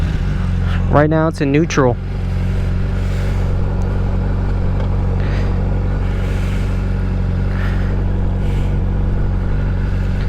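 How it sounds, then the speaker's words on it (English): A motorcycle engine idles with a steady low rumble close by, continuous under a short stretch of talking at the start. "So we'll go ahead and start it up."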